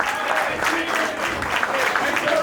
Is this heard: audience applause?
yes